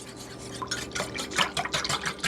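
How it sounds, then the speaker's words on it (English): A whisk beats an egg into buttermilk in a bowl, producing quick wet clicks and sloshing taps in a fast uneven rhythm, close by with a faint steady hum underneath. "add the egg into our buttermilk and whisk it till that's thoroughly mixed"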